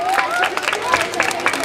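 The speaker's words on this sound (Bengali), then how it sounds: "একটা জোরে হাততালি হোক" Audience applause at a Durga Puja stage contest, a loud, dense burst of clapping and crowd noise with voices mixed in.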